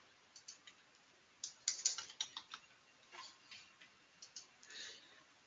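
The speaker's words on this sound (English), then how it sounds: "Step 6 will be to type password." Quiet, irregular clicks of keys being struck on a computer keyboard as a password is typed, a short burst of light taps with small pauses between them, alone and close.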